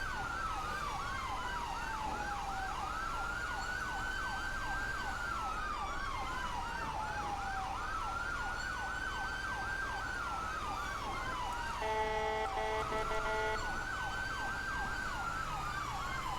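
A video game fire truck siren in GTA V wails continuously, alternating slow rising-falling sweeps with rapid yelping cycles, loud and steady over engine rumble, with a brief horn blast.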